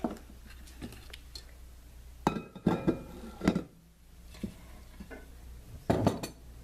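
A metal cupcake pan being pulled out and handled in a home kitchen, with several clanking, rattling knocks of metal against metal and countertop, spaced irregularly, between quieter handling noises.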